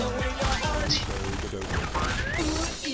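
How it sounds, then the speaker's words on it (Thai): Dense Garry's Mod Prop Hunt combat noise with a burst of explosive blasts and gunfire-like bangs, loud and continuous, with a voice speaking over it. "อุ้ยระเบิด"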